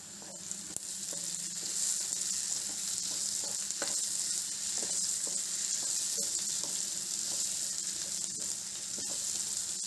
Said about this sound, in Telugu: ఇప్పుడు కొద్ది గ్రీన్ చిల్లీస్ వేసుకుందాం,